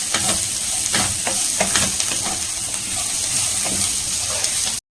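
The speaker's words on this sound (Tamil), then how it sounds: "இப்போ இது நல்லா வந்து சாட்டேஜ் பண்ணிக்கலாம்" Vegetables sautéing in a pan at a Tamil home cooking session, a steady close sizzle broken by repeated scraping stirs of a spatula.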